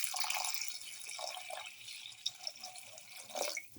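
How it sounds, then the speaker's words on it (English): Water pours steadily into a pot up close, a continuous splashing hiss with a few small gurgles and drips near the end. "Pour in 250 ml of water"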